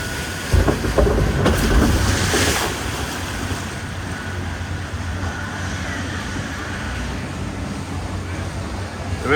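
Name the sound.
River Caves boat ride at Blackpool Pleasure Beach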